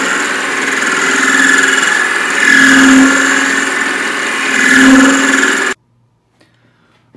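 A mini lathe turns a metal machinist hammer handle, giving a loud steady motor whine with the cutting tone swelling and easing twice, then stopping abruptly into near silence.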